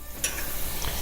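Steaks, American Wagyu and USDA ribeye, searing in butter in a pan: a steady close sizzle with a few brief scraping stirs.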